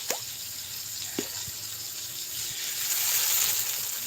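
Shrimp and squid being rinsed under running water in a kitchen: a constant hiss of flowing water with a few scattered drips and plops, fairly close, with no talking.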